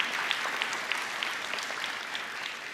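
A small audience claps steadily for a few seconds, close and even, without any cheering on top.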